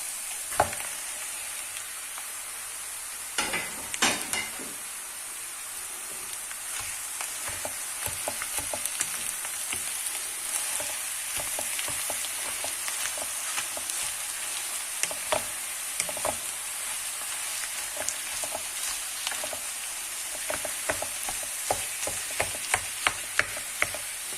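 Meat and onions sizzle steadily in a hot pan for a moussaka, a continuous close frying hiss broken by scattered crackles, pops and scraping stirs.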